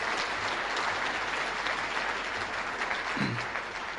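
Steady applause fills the hall at a high school Hall of Fame ceremony, dense clapping from a seated crowd holding even for several seconds without voices over it.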